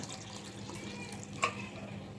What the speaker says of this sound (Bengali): জল অ্যাড করে দিচ্ছি।